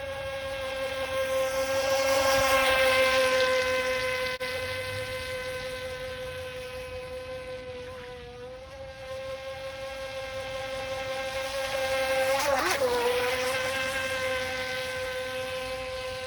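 A Haiboxing HBX X03 RC boat motor whines steadily on the water, its high electric pitch swelling and fading as the boat passes nearer and farther, with brief dips in speed.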